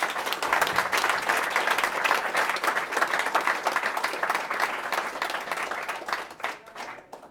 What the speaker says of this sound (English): You can sit now and give them an applause.